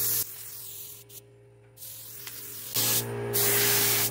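Spray gun painting a multicolor Dodge Neon, giving a steady loud hiss that cuts out briefly in the middle and resumes, with no overspray control.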